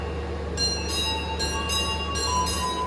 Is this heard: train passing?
yes